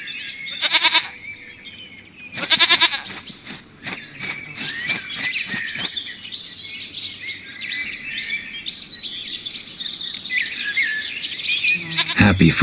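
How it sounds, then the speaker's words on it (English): A goat bleats loudly in the video game Witcher 3, two strong bursts near the start, with chirping birdsong filling the background throughout and a final bleat at the end. "Goat of mine, dearest, sweetest goat."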